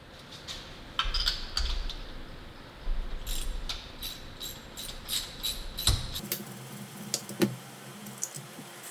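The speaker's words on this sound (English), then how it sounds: "That ratcheting sound means we're not doing anything." A ratchet wrench clicks in short repeated bursts while working on a car spark plug, a crisp sharp ticking up close with brief pauses between runs.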